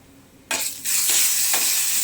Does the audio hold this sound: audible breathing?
no